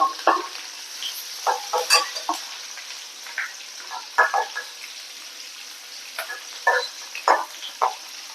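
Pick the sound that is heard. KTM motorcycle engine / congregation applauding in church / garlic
garlic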